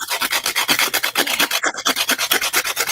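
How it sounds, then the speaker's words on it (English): Rapid rhythmic back-and-forth scraping as a cosplay prop is sanded by hand, each stroke a quick rasp in a steady close pattern, loud and continuous with no talking. "You're sanding"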